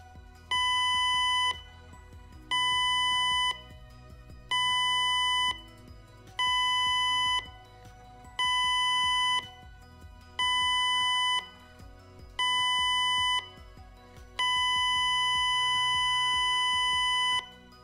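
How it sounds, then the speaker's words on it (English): A ship's general emergency alarm sounds eight electronic tones in sequence: seven short blasts evenly spaced, then one noticeably longer blast, loud and steady with a harsh, shrill pitch. "The general emergency signal is 7 short blasts followed by 1 long blast on"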